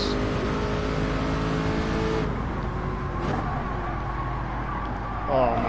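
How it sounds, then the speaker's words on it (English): A Honda NSX race car engine in Gran Turismo 7 GT3 racing drones loudly at high revs, then drops in pitch as it lifts off, with a rising whine near the end and someone talking over it. "The Honda NSX comes up on my ass."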